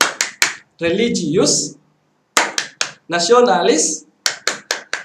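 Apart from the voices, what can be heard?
rhythmic hand clapping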